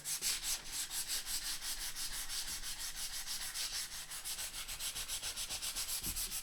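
Sandpaper works through the lacquer finish of a guitar in quick, rhythmic back-and-forth rubbing strokes, close and fairly quiet, with no voices.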